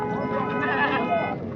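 A young female goat with eight teeth bleats at a busy livestock market, its calls blending with the steady chatter of buyers and sellers close by.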